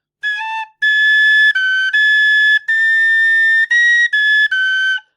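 An iVolga wooden whistle plays a run of clear, sustained notes in the high octave, loud and close, with short breaks between phrases and no talking.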